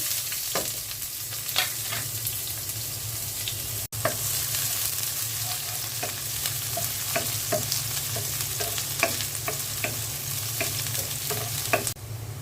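Onion and pumpkin frying in oil for a curry sizzle steadily up close, broken by scattered clicks and scrapes of stirring and a sharp knock near the four-second mark, with nobody talking.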